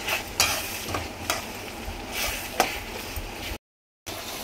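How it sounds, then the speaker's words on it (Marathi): Spices fry in a pan for prawn rice, giving a continuous soft sizzle with sharp spoon scrapes and stirring clicks at irregular intervals, close by, before a brief dropout of sound. "चांगला मसाला एकजीव होईपर्यंत आपण फ्राय करून घ्यायचा"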